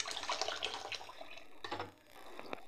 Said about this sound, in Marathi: 2-3 पाण्याने स्वच्छ धुवायचे